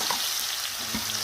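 Cumin seeds dropped into hot oil for paneer tikka masala give a steady, close, hissing sizzle with a few faint stirring knocks.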